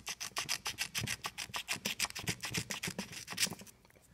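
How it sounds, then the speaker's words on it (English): Light grit sandpaper rubbed back and forth over a corroded EGR solenoid lead, a quick series of close, dry rasping strokes in a steady rhythm that stops near the end. "I'm just going to take some light grit sandpaper and just lightly scrape that off"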